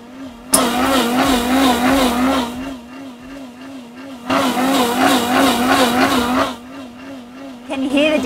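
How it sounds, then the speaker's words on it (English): Commercial vacuum blender CB1000 running inside its sound enclosure, a loud, steady whirring drone with a wavering pitch, in two long bursts separated by a quieter dip. "The sound enclosure drastically reduces the blending noise."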